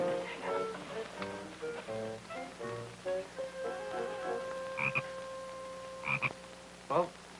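A frog croaks in a series of short, throaty calls, loud and close, at an uneven rhythm through a domestic sitcom scene, with faint chirping tones near the end.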